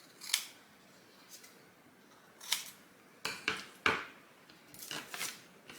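Scissors snipping apart small craft vinyl pieces, several short, crisp cuts spaced irregularly with a quicker cluster near the end, close and fairly quiet.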